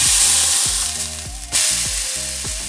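A chicken burger patty fries in a pan, giving a steady, fairly loud crackling sizzle. A repeating tonal musical pattern plays over it, and a brief burst of extra noise comes midway.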